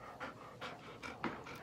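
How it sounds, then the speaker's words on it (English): A dog pants close by in quick, rhythmic breaths, about four or five puffs in a row, soft and steady with no talking. "The finest dog I've ever seen."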